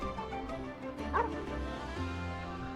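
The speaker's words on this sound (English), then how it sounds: "Is that some small animal I hear?" Small dog-like yips and whimpers from a little animal in the Genshin Impact video game, a few short squeaky cries over a sustained musical background.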